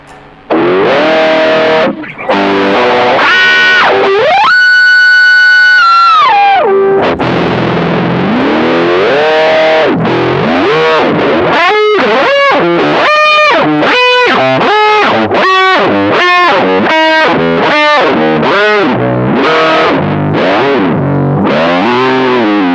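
Distorted electric guitar playing a riff through a Mooer Pitch Step expression pedal sweeping its pitch up and down, producing swooping, wavering bends throughout; loud and continuous.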